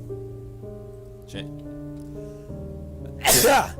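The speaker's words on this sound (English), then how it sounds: "I'm gonna sneeze." A single abrupt sneeze bursts out near the end, loud and close, after a stretch of quiet sustained tones.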